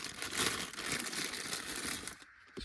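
A plastic bag sealing a Monstrum Banshee 2-10x30 MPVO scope crinkles and rustles loudly up close in irregular crackling bursts for about two seconds, then goes quiet.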